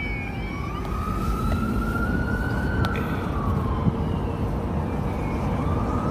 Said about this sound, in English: They right behind us!